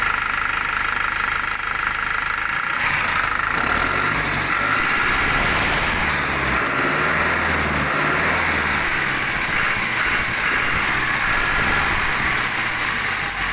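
A MAN D0834 diesel engine fitted in an MTZ 1025.2 tractor idles steadily with a low, even knocking chug, continuous and close, with no voices.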